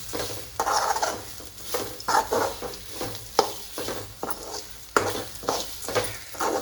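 Potatoes and peas frying in a pan, stirred in repeated bursts of scraping and sizzling that rise and fall every second or so, close and moderately loud, no speech.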